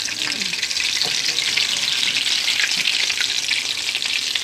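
Loaded potato bites deep fry five or six at a time in hot oil, a steady close crackling sizzle with fine popping bubbles throughout.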